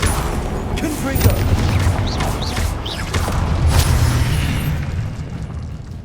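A Confringo spell in Hogwarts Legacy bursts with booming, crackling explosions, loud and close over game ambience, as a voice speaks the incantation.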